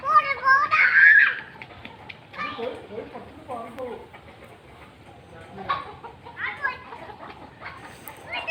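Chickens cluck and squawk as they run from a small child, and the child chatters over the flurry of clucking nearby.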